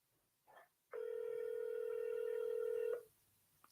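A telephone ringback tone during an outgoing cold call: one steady ring of about two seconds, clear and close, with brief faint noises before and after it.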